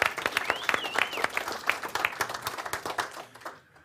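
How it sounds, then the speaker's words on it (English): Audience applause at a hypnotherapy seminar, a short burst of clapping from a modest crowd that fades out toward the end. "give him a round of applause for that"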